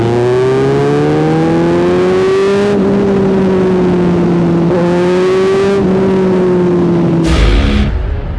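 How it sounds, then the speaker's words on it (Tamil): A loud, close Kawasaki Z900 motorcycle engine drones steadily while riding, its pitch stepping up through gear changes, with wind noise near the end. "இன்னைக்கு நம்ம ஒரு சூப்பர் பைக்கை ரைட் பண்ணி பார்க்க போறோம்."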